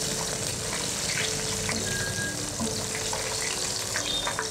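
Food deep-frying in hot oil, a steady dense crackling sizzle with scattered pops, close and continuous throughout with no talk.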